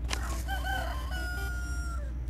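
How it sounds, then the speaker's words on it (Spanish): In the video game Poppy Playtime Chapter 3, a rooster crows once, a clear cock-a-doodle-doo with rising and falling notes over a low steady hum, no talking. "Un gallo ha sonado."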